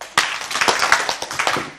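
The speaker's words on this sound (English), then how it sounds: "Clap your hands twice." An audience at a conference side event claps in scattered, uneven bursts, many hands striking at slightly different moments rather than in two crisp unison claps.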